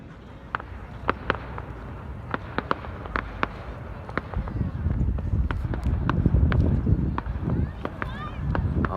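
Fireworks at a show over water, with a crowd of boats nearby, crack and pop in a series of sharp bursts over a rumbling, windy background with distant crowd noise.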